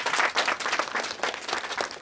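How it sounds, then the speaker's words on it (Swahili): An audience at a primary school gadget handover ceremony claps steadily in a dense, lively burst of applause with no talk over it. "hebu tupigie makofi"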